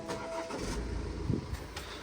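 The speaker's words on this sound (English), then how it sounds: "we are going to turn the engine on before we start doing anything" A car engine cranks and catches at close range, prepared for DPF cleaning, giving a short, fairly quiet starting burst before settling.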